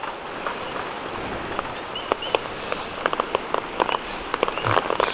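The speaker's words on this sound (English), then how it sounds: "It's definitely raining and windy, strong gusts." Steady rain pours during Hurricane Lane in Hawaii, a dense continuous hiss with scattered sharper drops tapping nearby surfaces, heard alone without any voices.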